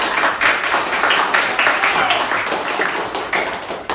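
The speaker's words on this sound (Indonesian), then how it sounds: "Semua tepuk tangan." Classroom of students clapping together at a teacher's prompt, a lively, close burst of many small hands beating quickly and fairly loudly for about four seconds.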